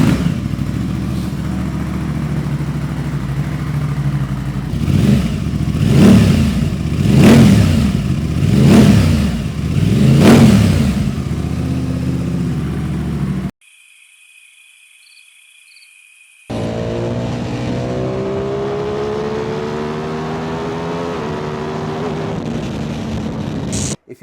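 Aprilia Tuono 660 motorcycle with aftermarket exhaust idling nearby, then revved in several rhythmic surges, followed after a brief silence by a steady idle with rising throttle blips.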